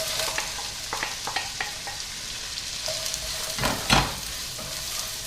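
Onion and carrots frying in melted butter in a cast-iron pot, a steady close sizzle with scattered crackles and pops, plus a louder scrape of stirring near the end.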